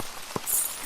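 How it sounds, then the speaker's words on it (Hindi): Heavy rain hisses steadily on a surface outside a roadside dhaba at night, a continuous wash with a single louder drip-like tap. "बारिश और तेज हो जाती है।"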